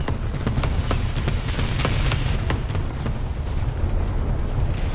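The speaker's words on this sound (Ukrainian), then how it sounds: "Сюди опять кидає арта." Artillery shells exploding in War Thunder, a dense rumble of booms and bursts, loud and continuous at close to mid range.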